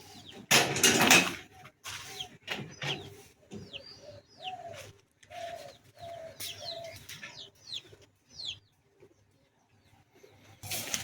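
Pigeons being collected from a village for a farm give several short rising coos against an open outdoor background, along with chirps from other birds and a few knocks, with no talk over them.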